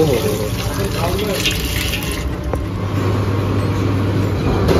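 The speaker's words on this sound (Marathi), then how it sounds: "इथे आपल्याला हात धुवायला नळ दिलेला आहे" Tap water runs steadily into a hand-washing sink at a misal restaurant as voices talk in the background. Traffic hums further off.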